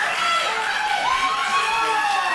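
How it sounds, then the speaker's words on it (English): Wrestling fans at a live independent show cheer and shout for Anthony Henry, a loud, continuous crowd roar with individual voices rising above the mass. "the fans cheering for him to get in"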